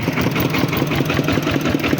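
A farm tractor engine idles close by, a loud, steady chugging putter with an even, rapid pulse and no voices.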